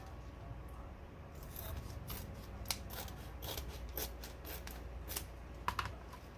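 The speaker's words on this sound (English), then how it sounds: "you can go ahead and trim it up and get a little close to the edge all the way around" Scissors trimming around the edge of a paper shaker bookmark, a steady run of soft snipping and rustling cuts with a few sharper clicks, close by and alone.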